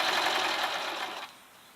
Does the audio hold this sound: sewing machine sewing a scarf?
yes